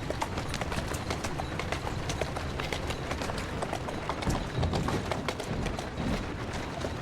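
Horse hooves clip-clopping on a street in the Assassin's Creed Syndicate video game, a steady rapid rhythm of close, loud hoofbeats over rumbling carriage noise.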